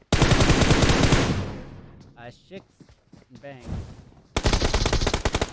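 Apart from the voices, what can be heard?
gunfire in PUBG Mobile video game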